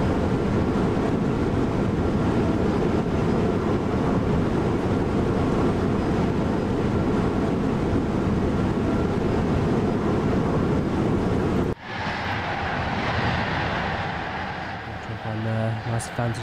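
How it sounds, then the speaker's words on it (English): A train passes in Train Sim World on the Rhein-Ruhr main line, a loud continuous broadband rumble and rush that cuts off abruptly partway through, leaving quieter rattling noise. "Vantage points, watch the train go by."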